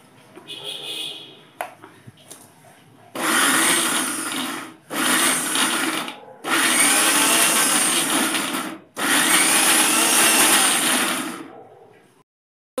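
Onions being mixed by hand into a mashed bharta, heard as four long, fairly loud bursts of rubbing, squishing noise separated by short pauses, with faint scattered sounds before the first burst.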